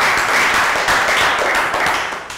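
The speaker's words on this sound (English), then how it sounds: "Round of applause" Children clapping in a primary-school classroom, a brief, loud burst of dense applause that tapers off at the end.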